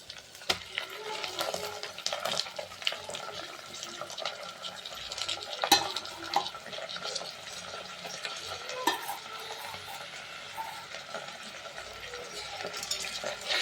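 Coriander and mint leaves stirred in a pressure cooker for kalan biryani, a steady wet scraping and rustling with faint clinks running throughout, close and continuous.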